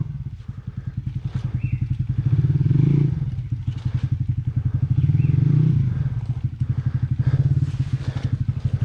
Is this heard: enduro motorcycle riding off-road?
yes